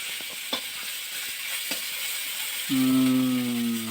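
Fish frying in a home pan: a soft background sizzle and a few faint knocks, then a loud, steady sizzle with a sustained hiss once the fish goes into the hot oil, close and continuous to the end.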